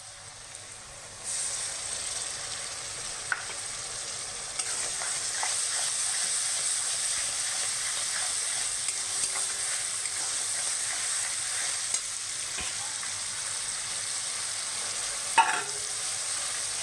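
Onions and spices fry in a pot for Bengali-style handi mutton, a steady close sizzle that begins after a second and holds throughout, with occasional stirring clicks and spoon scrapes.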